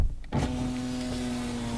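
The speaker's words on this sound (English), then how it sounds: "You have to check whether the windows are going up or down" Power windows on a Toyota car whirring steadily as the glass moves, a continuous electric motor hum with a steady tone starting after a brief thump, close and alone without talk.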